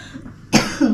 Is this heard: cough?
yes